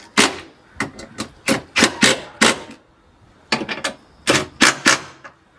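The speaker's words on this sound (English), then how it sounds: "Tighten it down by using a 10 millimeter socket." A 10 mm socket ratchet tightens bolts on a 2010-2015 Toyota Prius during a spark plug change, giving close bursts of rapid clicking in uneven groups separated by short pauses.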